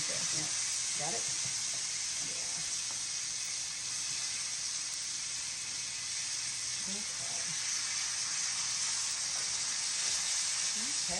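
Butter and steak sizzle steadily in a hot pan, a constant close hiss with faint crackles running throughout, while people talk quietly over it.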